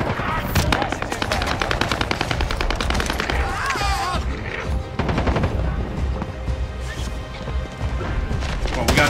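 Rapid automatic gunfire in Call of Duty Warzone on Rebirth Island, close and loud bursts of evenly spaced shots with impacts and crashes between, voices briefly heard under the fire.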